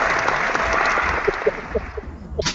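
Brief applause comes through during an online hangout of plastic model builders, a steady rush of clapping that thins out toward the end.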